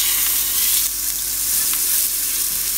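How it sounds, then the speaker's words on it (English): A beef filet mignon sears in oil in a hot cast iron skillet, giving a steady, close, loud sizzle with faint crackles and no talking. "You want to hear that sizzle."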